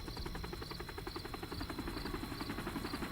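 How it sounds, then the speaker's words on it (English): Helicopters fly over a dark, soldier-filled base at night in the video game Metal Gear Solid V: Ground Zeroes, a steady rhythmic rotor thump that runs throughout under a thin insect-like buzz. "Lots of choppers coming and going."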